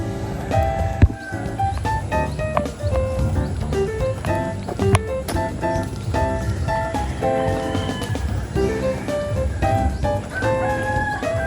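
Chickens kept by a Filipino household cluck and crow loudly and continuously at close range, with sharp bursts of calls layered over a busy farmyard din.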